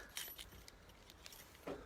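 Keys jangling outdoors by a farm gate, a couple of quick faint metallic jingles over a steady low background hum, with no talking.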